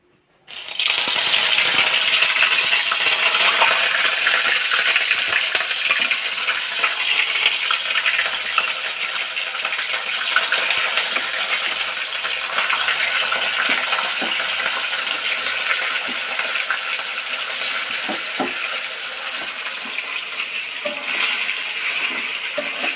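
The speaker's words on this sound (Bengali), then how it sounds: "এবার আমি চিকেনগুলো আস্তে আস্তে করে তেলের মধ্যে দিয়ে দেবো।" Chicken pieces frying in hot garlic-chicken oil over a high flame, a loud, steady, dense sizzle and crackle that holds for the full length, with no talking.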